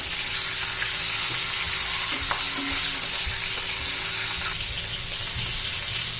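Dried chillies fry in hot oil for masala mirchi, a dense, loud, continuous hiss of sizzling with faint stirring scrapes beneath.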